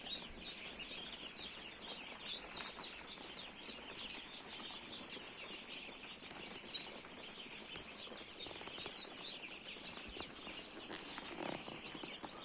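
A crowd of ducks on a duck farm murmurs and chirps continuously at a low level, with occasional clucks and wing flutters scattered through.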